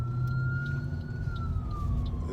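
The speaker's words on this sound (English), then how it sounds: "Ambulance coming" An ambulance siren holds a steady wail that slowly drops in pitch as it passes, over a low rumble of traffic, with no one talking.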